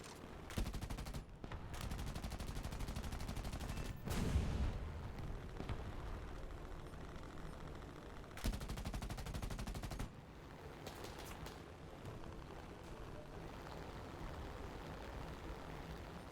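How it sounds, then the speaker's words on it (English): Sustained bursts of machine-gun fire in the War Thunder combat game, dense rapid volleys broken by short pauses, steady and fairly loud with muffled battle rumble underneath. "Shooting at each other from across the way"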